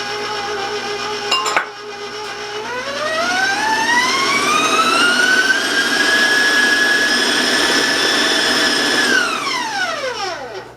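A loud electric mixer whirs while blending brown sugar, its motor pitch rising steadily as it speeds up, holding a high whine, then winding down at the end.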